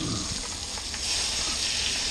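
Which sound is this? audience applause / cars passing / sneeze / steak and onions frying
steak and onions frying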